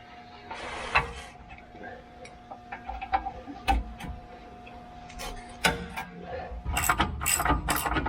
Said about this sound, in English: So he's going to loosen the bottom bolts.